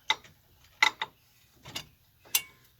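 A socket wrench turning on the wheel hub of a 2000–2006 Chevy Suburban gives a few separate sharp metallic ratcheting clicks, spaced irregularly and close up in a quiet setting.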